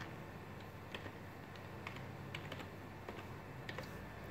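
Fingers tap out a name on a computer keyboard in irregular bursts of quiet, close clicks over a steady low room hum, with no voices.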